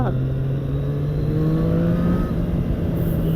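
Triumph Street Triple motorcycle engine running rough after passing 450 km, a loud, steady engine drone with rising tones as it revs, heard close up.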